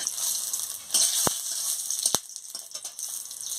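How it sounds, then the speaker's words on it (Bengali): Dried red chillies sizzle in hot oil in a heated pan, a steady frying hiss broken by a couple of sharp pops and crackles. "তেল গরম হয়ে গেছে, আমি শুকনো লঙ্কাটা দিয়ে দিচ্ছি"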